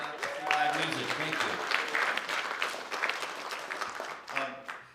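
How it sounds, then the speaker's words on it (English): An audience at a live songwriters-in-the-round music show claps in sustained applause, with voices mixed in. "give a round of applause for yourself for coming out to live music"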